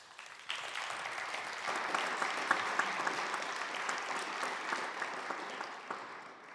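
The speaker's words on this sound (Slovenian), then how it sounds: "Slišim kakšen aplavz." Audience applause at a Slovenian woodworking industry awards ceremony, a sustained round of many hands clapping that starts abruptly and continues at moderate volume throughout, heard from a distance in a large hall.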